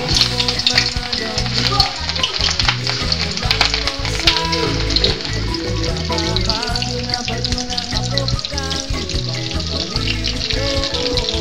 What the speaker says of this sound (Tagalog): So, ang gagawin natin dito, piprito na lang natin.